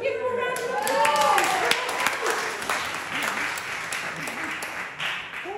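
A church congregation at an all-age Eucharist applauds, a sustained roomy clapping that swells then gradually thins, with a voice speaking briefly over the start.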